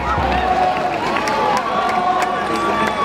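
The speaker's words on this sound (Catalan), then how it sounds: "Aquest aplaudiment que vagi per ell." A festival crowd applauds and cheers the builder of a new maqui giant figure in Sallent, a dense, steady wash of clapping and voices kept up throughout.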